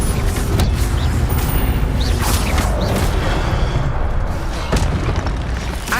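A fire spell bursts with a loud, rumbling boom in the video game Hogwarts Legacy, a dense roaring blast that fills the whole moment with crackling, fiery noise.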